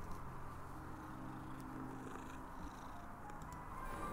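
A cat in the puzzle adventure game Brink of Consciousness 2 gives a soft, faint purr that runs low and steady across the few seconds. No talk is heard.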